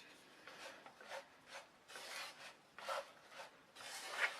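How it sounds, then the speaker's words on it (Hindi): Condensed milk and coconut powder stirred in a pan over a high flame for coconut ladoo, giving soft repeated scraping and rubbing strokes in an uneven rhythm, close and fairly quiet. "इसे लगातार चलाते हुए पकाएं, और मैं इसे हाई फ्लेम पे पका रही हूँ।"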